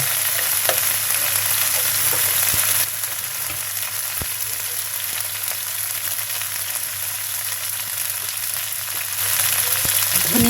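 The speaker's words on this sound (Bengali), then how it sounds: "পেঁয়াজ ভাজি করছি দুই সাইডে" Onions frying in a pan for a spiced tripe dish, giving a loud, steady, close sizzle that holds throughout and eases slightly midway, with occasional soft stirring knocks and no talking.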